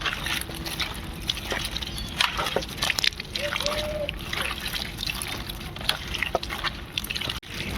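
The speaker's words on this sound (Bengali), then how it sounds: "বন্ধুরা, এগুলো ভালো করে একটু ধুয়ে নেবেন।" Vegetables being washed by hand in a pot or bowl of water, with light sloshing, trickling and small splashes close by. Someone speaks over the water sounds.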